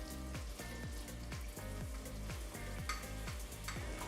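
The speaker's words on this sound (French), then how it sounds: "on va mettre le beurre à fondre et ensuite on rajoutera de la farine" Flour is stirred into foaming butter in a pan to make a roux, giving a soft continuous sizzle. A spoon scrapes the pan in a regular rhythm of about two strokes per second, close and quiet, with no talk.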